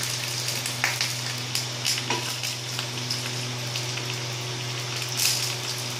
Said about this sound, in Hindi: सारे राई क्रैक हो गए हैं और कड़ी पत्ता भी फ्राई हो गया है